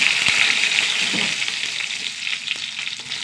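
Mustard seeds splutter in hot oil with a loud, dense crackle and scattered sharp pops, close up and alone with no voices.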